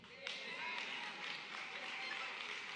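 A church congregation claps continuously, dense applause with a slight swell at the start, steady and close throughout.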